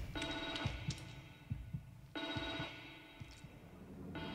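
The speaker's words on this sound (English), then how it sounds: "Might as well answer the phone." An odd-looking telephone rings in the horror video game The Evil Within 2, two long bright electronic ring bursts separated by a pause, over low throbbing heartbeat-like thuds.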